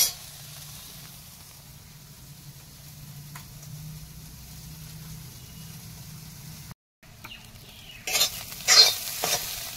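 Soybean chunks sizzling softly in a pan of hot oil while being stirred, a low steady fry with a brief pause, then louder scraping and stirring bursts near the end.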